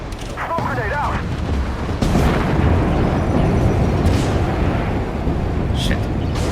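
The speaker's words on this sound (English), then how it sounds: "Smoke grenade out." A smoke grenade goes off in a video game with a sudden loud burst about two seconds in, followed by a sustained broad hiss over busy game noise, with voices faintly present.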